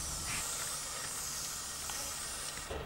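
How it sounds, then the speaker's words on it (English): WD-40 multi-use aerosol sprays in a steady, continuous hiss onto a lawn mower, a close and unbroken blast that holds for nearly three seconds with no talking. "give it a really generous spray"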